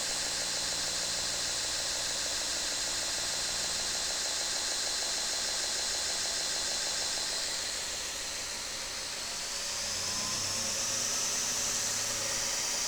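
A Hardcore QC 2x72 belt grinder runs at speed, giving a steady, smooth broadband whir with a bright hiss and a faint mechanical hum, continuous and close throughout with no talk.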